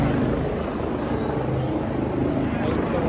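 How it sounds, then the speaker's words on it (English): Steady, loud rotor drone of a large helicopter passing overhead in Soho, London, a continuous low throbbing roar with busy street noise mixed in. "Big helicopter above my head."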